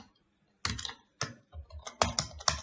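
Someone types code in Android Studio on a computer keyboard: close, crisp keystrokes in short irregular bursts separated by brief pauses, with no talking.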